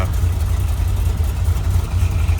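Deep, rumbling V8 engine of a 1968 Chevrolet Corvette L79 Roadster with a new exhaust, idling steadily up close, a low throaty burble with slight pulsing.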